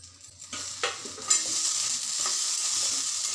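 About five or six peppers and a spoon of cumin seeds sizzle and fry in a pan, with a couple of stirring scrapes before a steady, close crackle takes over, with no talking.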